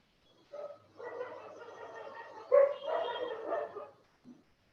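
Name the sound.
dogs barking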